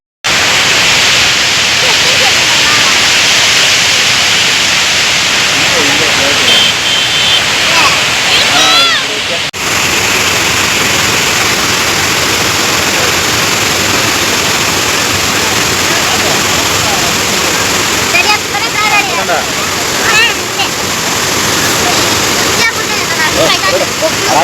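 Water pours over a dam in a loud, unbroken roar of rushing flow, close and steady throughout with only a brief dip.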